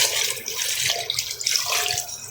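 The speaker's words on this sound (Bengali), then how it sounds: "যে পানিটা আমি অ্যাড করে দিতেছি" Water is poured into a cooking pot of fried rice for biryani, a short, close splashing and gurgling pour with uneven surges.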